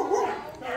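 A dog nearby gives a short, whiny bark or yip, fairly loud and close, lasting under a second.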